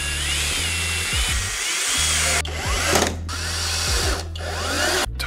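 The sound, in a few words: power drill driving screws into a motherboard holder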